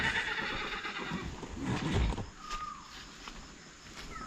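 A horse neighs in a rural outdoor setting, a loud whinny up close followed by quieter snorts and shuffling, with no talking.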